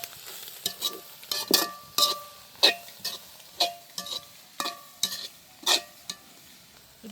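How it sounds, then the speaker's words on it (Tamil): Ingredients sautéing with salt in a pan in a village kitchen, a steady sizzle broken by about a dozen sharp, rhythmic scrapes and clinks of a spoon stirring against the pan, close and clear with no talking. "அப்படியே நல்லா எல்லாம் நல்லபடியாக வதங்கி வரட்டும்."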